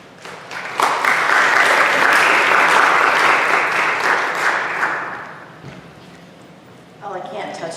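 An audience bursts into loud, sustained applause to welcome a speaker to the stage, a steady wash of clapping that swells, holds for several seconds, then fades, before a voice begins talking.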